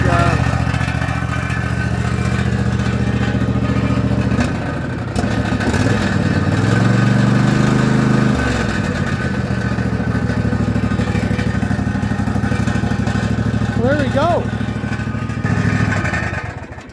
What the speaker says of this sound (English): Sounds like the heat shield is rattling.